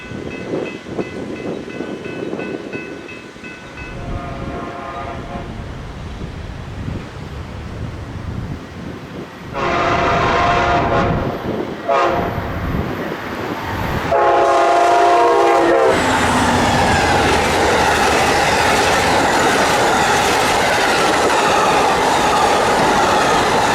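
The northbound Amtrak Floridian from Miami rushes past on the Chicago Line, led by Amtrak 318 with a Phase 5 P42 second, sounding several loud horn blasts before a heavy, roaring rush of wheels and cars close by.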